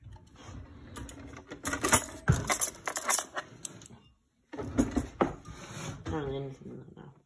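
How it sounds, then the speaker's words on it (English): Spoons rattled and clinked out of a kitchen drawer while making frozen banana ice cream, several bursts of metallic clatter close by, with people talking in between. "All right, let's get spoons."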